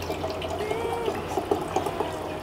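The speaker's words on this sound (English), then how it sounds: "you fill it up halfway with your room temp water" Room-temperature water pours into a bottle, filling it about halfway, as a continuous close burble with faint gurgling pulses and no talking.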